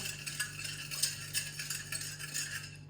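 A spoon steadily stirs sugar in a bowl while tahini bun dough is being mixed, giving repeated light scraping and clinking against the bowl, close and continuous, with no talking.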